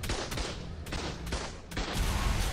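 Turret gunfire in the game ARK comes as a rapid, dense burst of loud shots with sharp repeated cracks over a continuous roar of fire.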